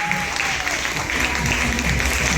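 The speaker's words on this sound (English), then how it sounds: "Everybody, a round of applause!" A crowd applauds steadily at the Marie France 40th anniversary event, the clapping running throughout and mixed with background music and voices.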